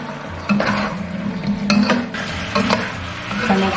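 Cola-braised pork ribs with lemon juice and rock sugar reducing in a pot over medium heat, a steady close sizzling bubble broken by repeated scraping and stirring clatters of a utensil against the pan.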